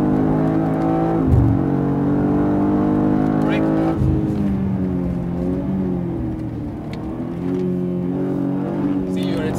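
A BMW M2 accelerating hard around the Dubai Autodrome, its engine note a steady loud drone with rising harmonics and a gear-change dip, heard from inside the cabin while people talk over it.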